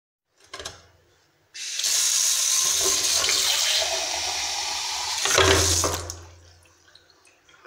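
Water gushes from a tap for about four seconds, a loud steady hiss that swells before cutting off, with a short splash just before and faint handling noise after.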